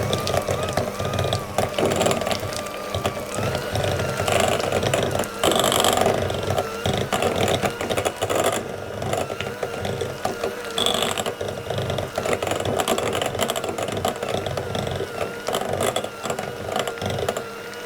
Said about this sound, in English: the first thing I'm going to do is to mix the butter together to make sure that every part